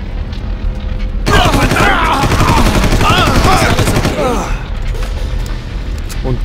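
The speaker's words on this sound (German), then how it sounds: "Wir werden schon wieder beschossen." Loud bursts of automatic gunfire and rapid shots from the video game Far Cry, dense and continuous for several seconds, with faint ambient game sound before and after.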